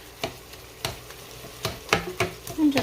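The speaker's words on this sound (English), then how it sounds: "cooking up a pound of ground turkey and a pound of regular old sausage" Ground turkey and pork sausage cooking in a pan with minced garlic and onions, a spatula scraping and chopping the meat in sharp irregular strokes over a soft background sizzle.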